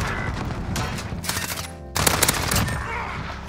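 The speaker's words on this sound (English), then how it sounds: "I wanna see if I can beam someone with an MP5 right here" An MP5 submachine gun fires rapid bursts in a first-person shooter video game, with dense automatic rattles, a brief drop in the middle, then louder fire layered with game ambience and other gunshots.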